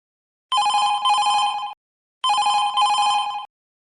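A home telephone rings twice, each ring a bright electronic double trill lasting just over a second, separated by a short silence, clear and close with nothing else heard.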